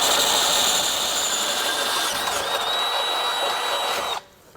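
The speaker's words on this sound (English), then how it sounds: "We're now going to be enlarging this hole to a 1/2". I'm going to grab a couple drill bits" Drill bit steadily boring a hole in a steel car frame rail while enlarging it to 1/2 inch for a Roadmaster base plate install, a continuous close grinding whine with a thin high tone that stops abruptly near the end.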